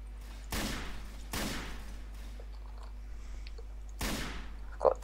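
Gunfire in the zombie horror game Garry's Mod: three loud, sharp blasts spaced about a second apart over a steady low hum, each with a short ringing tail, followed by a small click.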